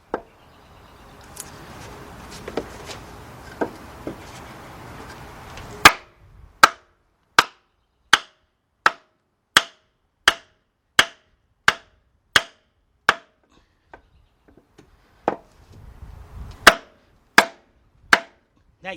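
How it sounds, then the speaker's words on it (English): Sharp hammer blows on a wood block set against a 2002 Dodge Stratus 2.4 engine part, about sixteen evenly spaced strikes ringing out clearly, preceded by some shuffling and handling noise. "Set your wood right there. Take your Thor's hammer."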